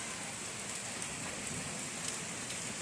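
Steady rain falls outdoors, an even broadband patter of drops on surfaces that holds constant throughout with no voices.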